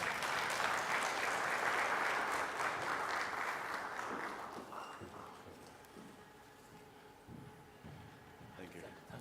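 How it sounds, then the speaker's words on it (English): Conference audience clapping to welcome the Governor of Nairobi, a dense wash of applause that fades out after about five seconds, leaving room noise and faint scattered sounds. "Please give him a clap as he comes."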